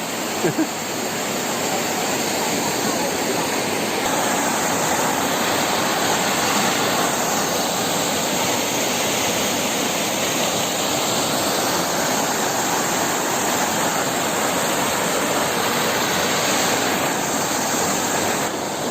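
Monsoon-swollen waterfall thunders on without a break, a broad, even wash of falling water that stays loud and close throughout, with no voices over it.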